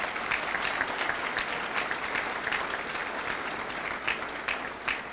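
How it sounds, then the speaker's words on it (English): Sustained applause from a graduation crowd honouring college faculty, a broad even patter of many hands clapping at a distance, steady throughout with no speech over it. "offer a hearty round of applause to all of our faculty here"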